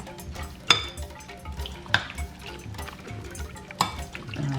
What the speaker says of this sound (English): I stir really well.